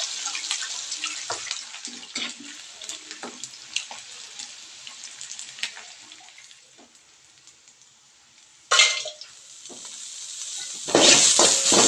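Banana flowers fry in hot oil, sizzling steadily with scattered pops and crackles, swelling into louder hissing bursts near the end as more go into the pan.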